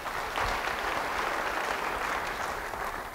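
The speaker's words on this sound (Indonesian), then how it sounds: "Sekali lagi beri tepuk tangan bagi dia." Church congregation applauding at a sermon, steady sustained clapping from a large crowd filling the whole stretch, close and fairly loud with no talk over it.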